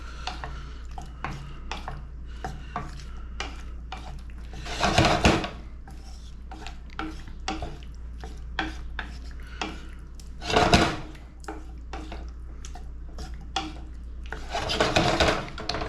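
Pasta carbonara tossed and mixed in a pan with a splash of pasta water: soft clinks and scrapes of a utensil against the pan, punctuated by a few louder, longer scraping bursts, close and without speech.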